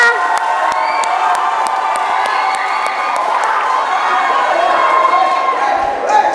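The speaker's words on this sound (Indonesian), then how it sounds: "Baik, tepuk tangannya." An audience at an election commission democracy workshop in Kendal cheers, shouts and claps in a loud, continuous crowd roar lasting several seconds.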